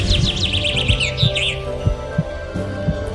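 Cartoon bird chirps in a quick, high, twittering run near the start, then fading, with soft low thumps and a quiet hum beneath.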